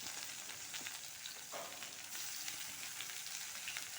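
Large onions sizzle and fry in a hot pan for egg gravy, a constant crackling hiss with a brief stir partway through, close and fairly quiet.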